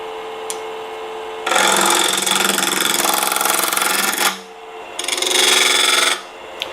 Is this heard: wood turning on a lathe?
yes